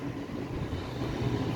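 A train at Sydney Central station rumbles steadily, a low continuous rolling noise heard briefly and moderately close.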